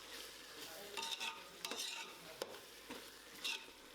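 Mint and coriander leaves sautéing in hot oil for chicken biryani, with quiet sizzling and a few sharp scrapes of a spoon stirring the pan at irregular intervals.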